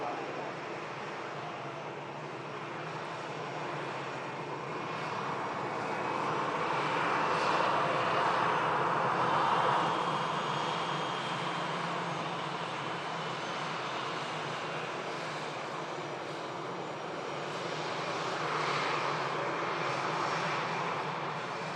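A jet airliner touches down at Manchester Airport in stormy Storm Lilian winds, its engines a broad, sustained roar heard from a distance that swells slightly midway and holds steady over gusty background noise.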